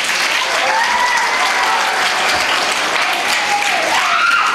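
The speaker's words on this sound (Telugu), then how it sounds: "మళ్ళీ ఇంకోసారి క్లాప్స్ కొడదాం" A large audience at a group dance performance in Machilipatnam claps loudly and continuously, a dense, steady wash of applause filling the whole stretch.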